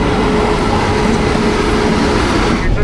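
Loud, constant rumble of a moving passenger train heard from inside a carriage, a dense steady roar of wheels and motion with faint background chatter.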